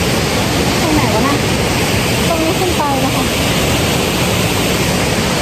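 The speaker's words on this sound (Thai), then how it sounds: "ก็ดูน้ำตก" A waterfall on a multi-tiered forest trail roars as a constant, loud wash of rushing water that fills the whole clip.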